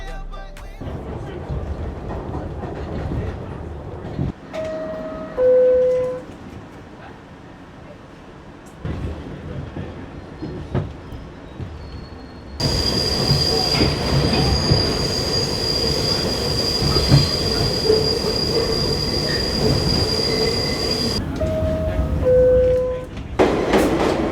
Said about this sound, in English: I was actually so gassed seeing the iconic New York subway trains